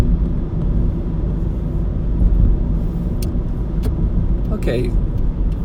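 Inside a moving car just off the highway, a steady low road rumble and engine drone fills the cabin, with a voice speaking briefly over it.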